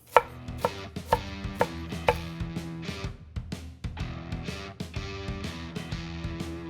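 Shredded cabbage being chopped on a board for corned beef sausage: a quick series of knife strikes, irregular but steady, each a crisp thud, close and clear with no speech.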